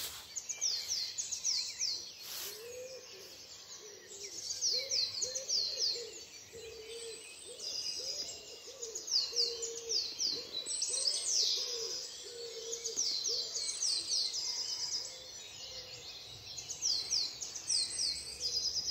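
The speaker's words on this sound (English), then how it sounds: "Enjoy your dawn chorus." Dawn chorus of many wild birds singing and chirping continuously at once, a steady layered texture of high trills and calls at moderate distance, with lower cooing or hooting notes woven underneath.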